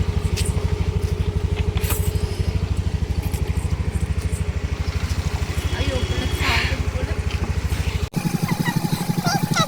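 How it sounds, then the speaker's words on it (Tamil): Yamaha FZ motorcycle ridden along with a steady, rumbling engine note held throughout, close and fairly loud, then a brief cut to a similar engine sound. "நான் என்னோடய ஹஸ்பண்டோட எஃப்இசட் பைக் வந்து சரி ஓட்டி பார்ப்போம்"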